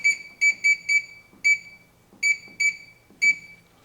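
An ultrasonic cleaner's timer being set on a unit used for cleaning tools: a series of sharp electronic beeps, some in quick pairs or triplets, close and clear with no talking.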